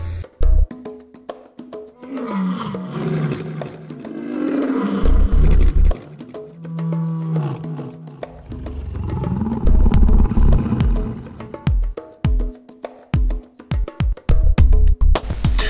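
Lion roaring loudly and close, a series of deep throaty roars building and then tapering into grunting huffs, with no voices.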